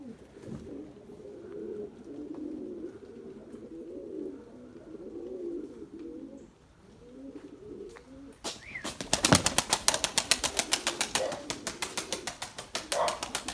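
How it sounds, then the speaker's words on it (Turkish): Pigeons flying in and landing in the rain: soft low cooing first, then a sudden burst of loud, rapid wing flapping up close that continues in quick fluttering beats to the end. "Gökbey gördü sonunda kuşları geliyor arkadaşlar bakın"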